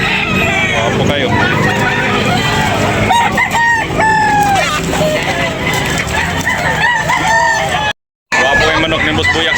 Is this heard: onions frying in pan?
no